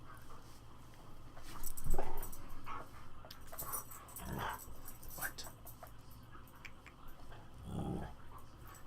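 A puppy whimpers and barks in short bursts, a few loud yelps standing out, while someone talks over game sounds.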